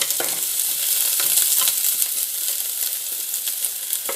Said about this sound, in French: je vais faire revenir mes oignons jusqu'à ce qu'ils commencent à changer de couleur